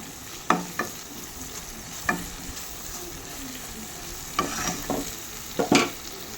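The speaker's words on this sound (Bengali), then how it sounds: "হালকা একটু অল্প কাশ্মীরি মির্চ দিয়ে দিলাম, দিয়ে আবারও ভালো করে নেড়ে নিচ্ছি।" Close, continuous frying sizzle as a spatula stirs cumin powder and Kashmiri chili in oil for a pointed gourd, potato and prawn curry, with a few sharp scraping clinks and no talk.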